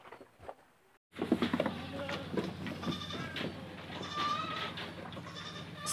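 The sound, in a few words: Kacang goats bleating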